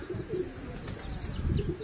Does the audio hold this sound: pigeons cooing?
yes